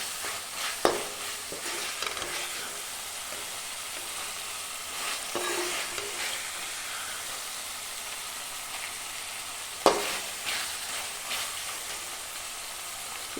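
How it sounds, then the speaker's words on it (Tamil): Onions, green chillies and tomatoes sauté in hot oil for a chicken green-chilli coconut curry, a steady broadband sizzle broken by sharp scraping stirs near the start and again around ten seconds, with no talk. "இப்போ இந்த வெங்காயம், பச்சை மிளகாய், தக்காளியெல்லாம் நல்லா வதங்கி வந்துடுச்சு பாருங்கள்."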